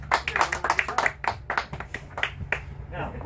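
A small group claps in a brief round of applause for Shadé, with quick overlapping hand claps that thin out and fade over a few seconds.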